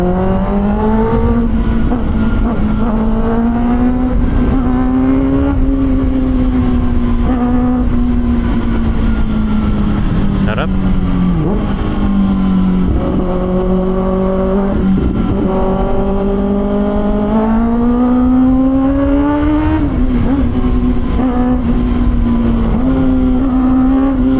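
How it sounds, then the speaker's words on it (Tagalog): A loud inline-four engine on a 6R motorcycle hums steadily up close, its pitch rising and falling as the throttle is worked, without pause for the whole stretch. "tsaka yung tunog iba talaga pag inline 4"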